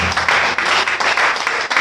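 A church congregation applauds together in steady, dense clapping throughout, loud and close, with no voices rising above it.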